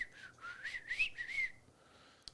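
A person whistles a short, wavering melody alone for about a second and a half, fairly quiet, followed by a brief faint click.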